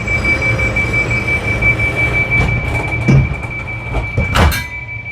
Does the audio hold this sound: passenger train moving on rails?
yes